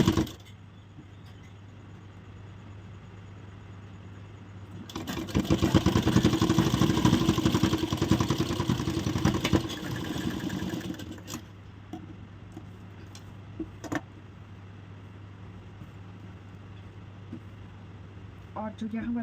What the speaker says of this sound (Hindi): इस तरह यहाँ से भी सिलाई लगा लेते हैं।